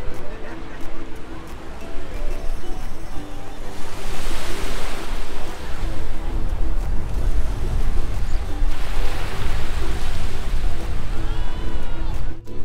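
Ocean waves roll onto Waikiki Beach in Hawaii, heard while walking along the shore: a broad rushing wash swells and recedes twice over a constant wind-buffeted roar.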